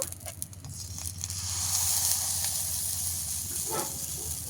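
Chitoi pitha batter spooned into a hot, lightly oiled pan, giving a close sizzle that swells and then holds steady as it cooks.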